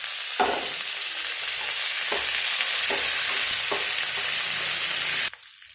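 Hot oil sizzles loudly and continuously in a pan as dried red chillies and curry leaves temper, with a few scraping stirs along the way, until the sizzle cuts off abruptly near the end.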